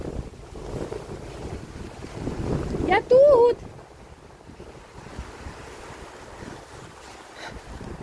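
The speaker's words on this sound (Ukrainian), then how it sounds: "Вітер такий капець, слухайте" Strong wind in Ireland roars and buffets the microphone throughout, with a brief shout near the middle.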